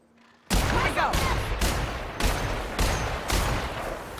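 Rapid bursts of gunfire in the video game The Outer Worlds ring out one after another, loud and close, roughly every half second over a continuous battle din.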